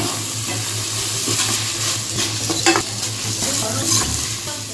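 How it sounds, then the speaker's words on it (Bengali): Rice for payesh is lightly fried and stirred in a pan, giving a soft, steady sizzle broken by repeated scraping strokes of a spoon against the pan. "তো চালটা হালকা ভাজা ভাজা করে"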